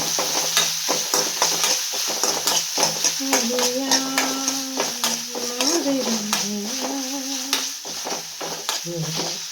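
Sambar powder being stirred into simmering rasam in a pot, giving soft, irregular stirring and scraping sounds over a faint bubbling hiss, with someone speaking throughout.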